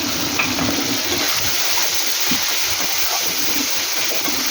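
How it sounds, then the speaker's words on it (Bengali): Water is poured into a cooking pan while a fish curry (chinri macher jhol) cooks, making a steady close rushing, hissing pour with a sizzling wash throughout and no talking. "আর একটু জল দেবো।"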